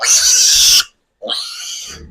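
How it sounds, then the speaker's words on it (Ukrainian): Three-day-old piglets squeal shrilly and loudly up close during handling, in two long piercing bursts separated by a brief silence. "перша свиня не кричала, це йдуть кабани"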